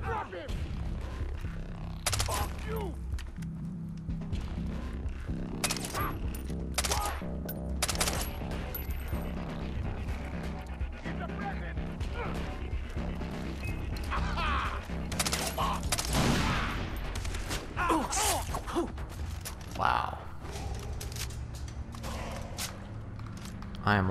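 Far Cry 3 gunfire, with bursts of rapid shots and thumps spread through a busy game soundscape, and someone talking now and then over the action.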